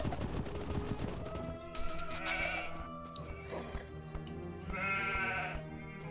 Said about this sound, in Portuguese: Vamos ali trazendo as nossas ovelhas.